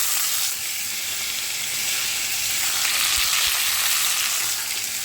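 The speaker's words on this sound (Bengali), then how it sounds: "তো চলো এরপর আমি এখানে দিয়ে দিচ্ছি ধুয়ে রাখা বাঁধাকপিটা" Washed cabbage dropped into a hot pan, a loud, steady close sizzle and frying hiss with a faint stir, no talking.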